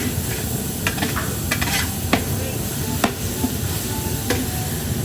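Onion and garlic sautéing in a large pan for low-carb beef strips with mushrooms, a dense continuous sizzle broken by repeated close scrapes and clicks of a utensil stirring against the metal.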